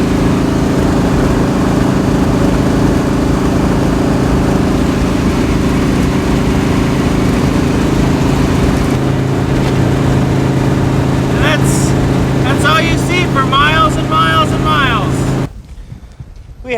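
Jeep engine cruising on a highway at a steady 3,200 RPM, a loud continuous drone with road and wind noise, a voice speaking over it toward the end before the sound cuts out.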